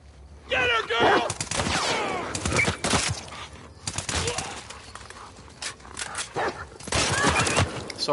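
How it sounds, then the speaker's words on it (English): In The Last of Us Part II video game, a dog barks amid gunfire and loud combat effects, with several sharp barks and bursts of shots overlapping at close range. "Oh, I see a dog."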